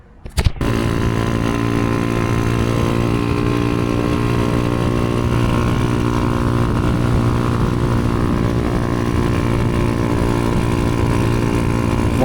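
A Honda Wave 125 R motorcycle with a 57mm four-valve engine runs steadily and loudly close by after a brief click, its low rumble holding an even idle-like drone throughout.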